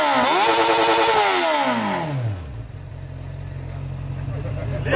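A pink motorcycle engine revs up and falls back, then settles into a low steady idle, loud and close, with voices talking over it.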